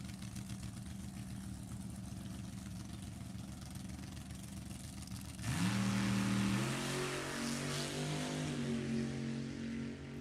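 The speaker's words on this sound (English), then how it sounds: "Chevy 427 going to power this hot rod down to as close as they can get to an 860" A Chevy 427-powered funny car hot rod at a drag strip, idling with a loud, lumpy rumble before the throttle snaps open around midway into a roaring, rising launch run that stays loud and close to the end.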